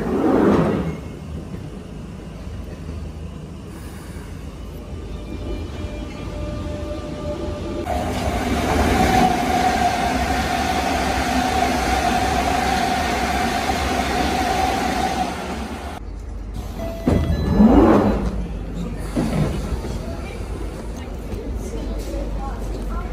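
London Underground train at Finchley Road station, a steady rumbling hum as the carriage runs, with a rising whine and clattering bursts of doors and wheels near the end, heard from close by with no speech.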